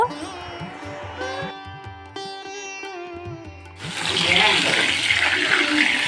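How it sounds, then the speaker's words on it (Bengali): Cut potatoes and taro rinsed in water in a kitchen for a Bengali fish curry, a close splashing and running-water rush that swells louder toward the end, with a low tonal hum underneath. "আলু আর গাটি কচুটা কাটা হয়ে গেছে এবারে জল দিয়ে ধুয়ে নেব"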